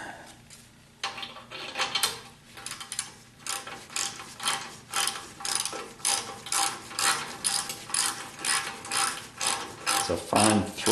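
A ratchet wrench loosens a fine-thread bolt on a 1976 Corvette front brake caliper: rapid, regular metallic clicking strokes repeat one after another, loud and close, with no talking.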